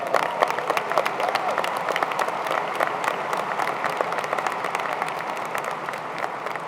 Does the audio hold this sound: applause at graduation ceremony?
yes